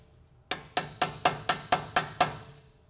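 A hammer strikes a punch nine times at a steady, even pace to knock out the peen on an axle nut, with sharp metallic ringing hits close by and no talking.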